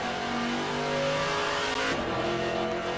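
A VK Commodore Group C V8 touring car in rFactor2 at Bathurst, its engine droning loud and steady before revs fall sharply under braking with a downshift blip, no voices.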